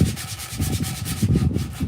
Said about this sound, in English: But yeah, Susan hand sanding that, and just taking away this little sharp